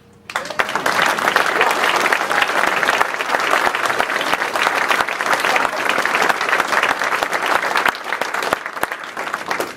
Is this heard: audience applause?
yes